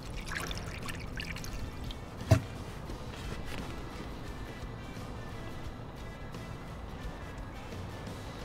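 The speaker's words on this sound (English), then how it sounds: "Now we insert a funnel, and then we're going to start pouring in our coolant." Pre-mixed coolant pouring from a tilted jug through a funnel into a Chevy Impala's cooling system, a soft, continuous trickling gurgle, faint and close, with one brief knock early on.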